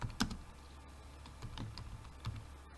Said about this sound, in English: Now here I am typing here